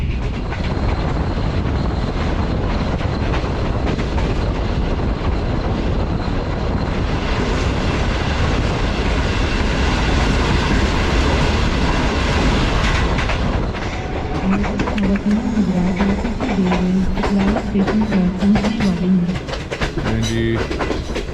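A Green Line economy train from Lahore to Rawalpindi rolls along with a loud, continuous rumble and rail clatter heard from inside the carriage, and a tonal hum rises near the end.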